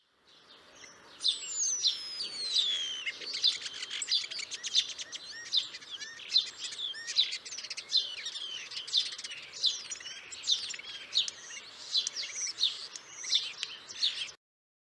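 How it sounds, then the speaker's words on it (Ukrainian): A flock of starlings chatters and whistles continuously, a busy mix of clicks, rattles and sliding whistles, fairly close and steady throughout. "Це шпаки."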